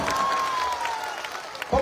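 A rally crowd in Purnia applauds to welcome MP Pappu Yadav: a steady wash of dense clapping throughout, with a thin sustained tone running over it for the first second and a louder burst near the end.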